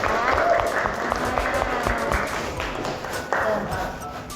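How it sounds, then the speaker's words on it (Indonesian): Audience applause for two presenters during a teacher performance assessment session: a short burst of clapping under and between voices still speaking, moderately loud and fairly even throughout. "Tepuk tangan dulu untuk Asep dan Alika"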